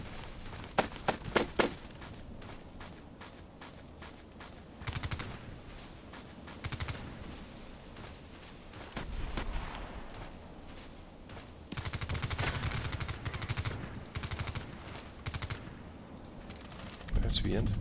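Gunfire in a sniper video game, bursts of sharp rapid shots at irregular intervals over a steady low background, with speech heard in the clip.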